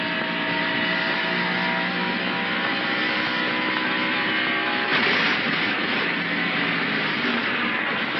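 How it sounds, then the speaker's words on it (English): In-car audio from a 1990 NASCAR stock car race, the Champion Spark Plug 400, as a tire blows and the car strikes the wall: a loud, steady engine roar with a sharp burst of impact noise partway through. "It sounds like he blew a tire."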